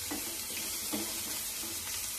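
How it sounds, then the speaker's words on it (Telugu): Masala spices are stirred and fried in a pan for a brief moment, a steady hiss of frying with soft, rhythmic scraping from the stirring spoon. "ఈ మసాలాలన్నీ ఒక్క నిమిషం పాటు ఇలా"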